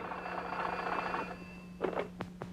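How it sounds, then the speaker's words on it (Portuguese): A cartoon telephone rings in a series of short bursts over a faint tonal background, fairly quiet and alone without speech. "Telefone do guarda-belo."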